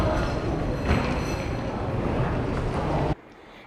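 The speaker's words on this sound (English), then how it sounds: "The Airport Express train goes to a few stops that usually connects you to the metro system" Delhi Airport Express metro train: a steady, loud rumbling roar of the moving train fills the clip, then cuts off abruptly near the end.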